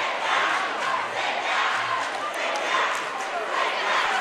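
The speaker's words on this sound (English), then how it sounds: "the Wayne student section in a little cross-court cheer battle with the Southside fans" A high school boys basketball crowd, where the Wayne student section trades chants across the court with the South Side fans, roars in loud rhythmic rising and falling waves. The chanting is sustained and pulsing throughout and fills the gym.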